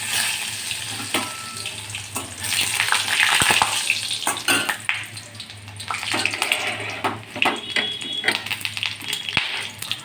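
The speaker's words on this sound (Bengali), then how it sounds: "আমি এতে শুকনো লঙ্কা আর একটু কালো জিরে ফোড়ন দিয়ে দিচ্ছি" Dried chillies, black cumin and chopped garlic fry in hot oil, giving a crackling, spitting sizzle, loud and close, with stirring clatters and bursts of popping throughout.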